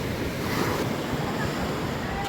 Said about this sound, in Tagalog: Hintayin natin yung malaking alon.